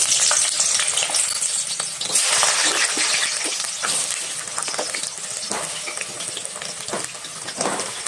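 Diced papaya and potato fry in a pan with a busy, crackling sizzle and occasional stirring scrapes, close and continuous, with no one speaking.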